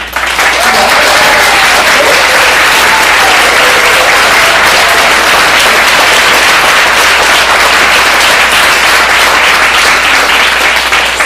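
Dense, loud applause fills a hall at a Québec solidaire political congress, sustained and even throughout with crowd noise and faint voices mixed in.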